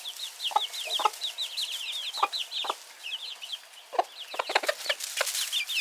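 A flock of chickens clucks and chatters excitedly up close, with rapid overlapping high-pitched calls and sharper squawks scattered throughout as the birds come running.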